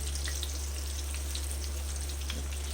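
Eggplant slices fry in oil over a high flame, giving a close, continuous crackling sizzle over a low steady hum.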